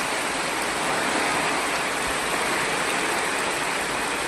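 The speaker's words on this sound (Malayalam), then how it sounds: "നല്ല മഴ" Heavy rain falls in a dense, unbroken hiss, loud and steady throughout with no voices.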